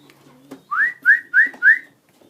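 A person gives four short, rising whistles in a quick even rhythm to call baby pigeons to grain on a cleaned floor, close and clear after a faint knock.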